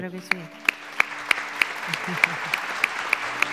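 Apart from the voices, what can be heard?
audience applause at an awards gala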